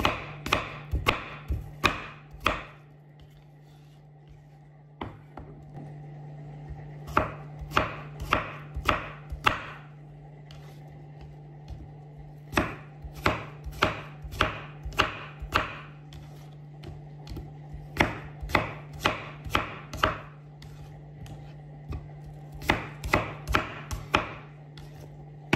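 A knife chops apples on a board for an apple cake, making crisp, close taps in quick bursts of several strokes, separated by short pauses, over a low steady hum.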